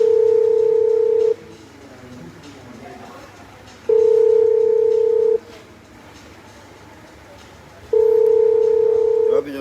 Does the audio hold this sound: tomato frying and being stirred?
no